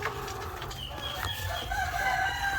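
Black Australorp hens clucking and a rooster crowing in a farm coop in the morning, several birds sounding continuously at moderate distance over steady background noise.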